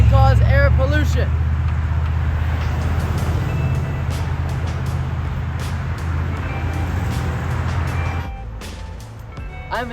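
Heavy traffic of many cars and trucks rumbles steadily at a highway exit in Buckhead, a continuous low engine drone with passing vehicles, while a voice talks over it near the start.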